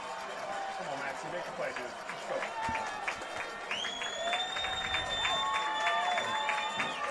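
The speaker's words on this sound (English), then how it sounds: "Episcopal Academy's crowd getting into it." A high school football crowd at Episcopal Academy cheers and claps in the stands, a broad roar with whistles that grows louder toward the end, and a commentator talks over it throughout.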